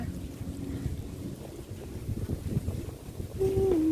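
Steady wind rushing and buffeting across the microphone, with rain and a low rumble of water or a boat beneath, growing louder toward the end.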